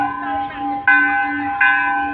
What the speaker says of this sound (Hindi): घंटी बजाते हैं तो इसी तरह से यहाँ पे भी घंटी बजाइए।